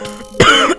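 One short, close cough or throat-clearing bursts out after a faint breathy lead-in, loud and alone.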